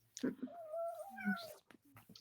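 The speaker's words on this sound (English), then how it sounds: "Here's the kitty." A house cat meows close by, one drawn-out rising and falling call followed by a shorter second meow and a few small vocal chirps in an otherwise quiet room.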